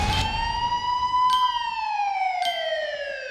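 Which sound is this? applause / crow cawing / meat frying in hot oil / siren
siren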